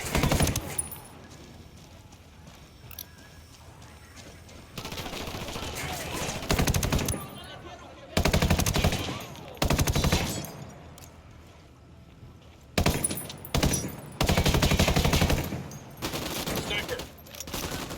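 Gunfire in Ghost Recon Wildlands: loud bursts of automatic fire come in several separate volleys, broken by quieter stretches of ambient game sound.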